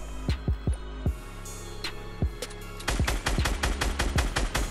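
Gunfire in the Fortnite battle royale video game, with a semi-auto sniper among the weapons: sharp, loud shots, a few spaced apart at first, then a rapid run of repeated bursts, with no voices.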